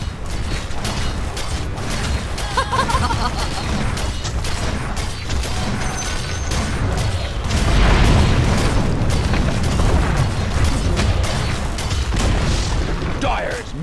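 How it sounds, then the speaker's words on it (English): A tower under attack in the middle lane of a Dota 2 match: dense, continuous battle noise of booms, mechanical clanks and creaks, growing louder partway through. "Dire's middle tower is taking fire."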